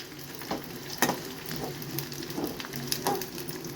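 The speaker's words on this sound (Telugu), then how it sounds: "పచ్చిమిర్చి కొంచెం ఇందులో ఫ్రై అవ్వాలి" Green chilies and bottle gourd peel fry in oil in a pan with a continuous soft sizzle and crackle, broken by intermittent stirring scrapes and small pops, close and fairly quiet, with no talking.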